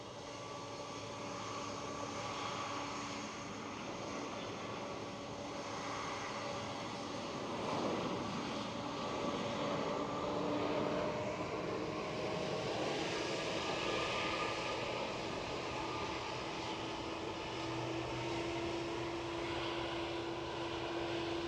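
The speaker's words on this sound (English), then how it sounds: "The inbound EasyJet, A320 from Paris Charles de Gaulle." EasyJet Airbus A320 arriving from Paris Charles de Gaulle at Edinburgh Airport, close jet engine whine and roar with shifting tonal hums that rise and sustain, loud and continuous with no talking.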